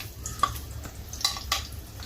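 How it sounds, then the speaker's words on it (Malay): Oil sizzles quietly as onion wedges fry in a pan over low heat, under a low background hiss, with a few sharp clinks of a utensil against the pan. "kecilkan api kita goringkan bawang yang wedges tadi tu"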